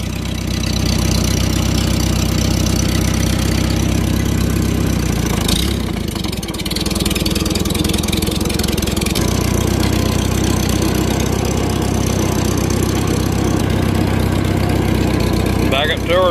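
A 1952 Studebaker 2R5 truck with a Super 8 engine idles steadily with oil pressure up, a low, even rumble running close by for the whole stretch with no revving.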